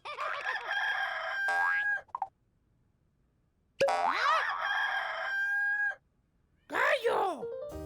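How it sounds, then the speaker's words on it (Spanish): A rooster crows loudly in a cartoonish style, repeated three times with pauses between, mixed with bright sliding boing-like tones in a children's animal-names setting. "Gallo."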